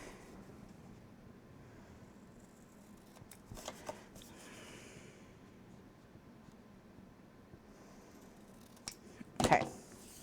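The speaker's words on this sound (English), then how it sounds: "what I'm going to do now is I'm going to cut those corners" Scissors snip corners off paper at a 45-degree angle while building a file folder album insert, giving a few faint, brief cuts scattered over a quiet room hiss and a louder cluster of rustling snips near the end.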